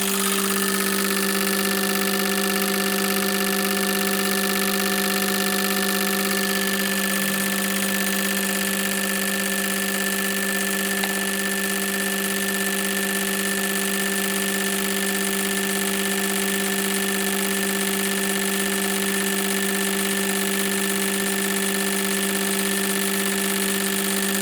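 A fuel injector flow test machine runs a steady medium speed test, its constant mechanical drone and tonal whine holding unchanged for about twenty seconds, loud and close with no voices.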